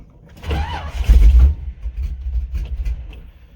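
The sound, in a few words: car engine cranking on a cold start with nearly dead battery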